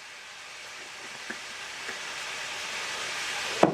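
Ground beef browning in a pan with cumin, salt, pepper and oregano gives off a steady close sizzle that slowly builds, with a couple of soft clicks and a sharp clank near the end.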